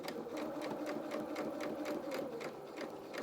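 A sewing machine runs steadily, stitching up the side of a pocket on children's shorts or dungarees, giving a fast, even mechanical chatter close by with no talk.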